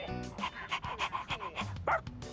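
Koromaru the dog from the video game Persona 3 Reload, a string of quick, yippy barks and pants in an even rhythm, ending in a higher whimpering yelp, fairly quiet and with no talking over it.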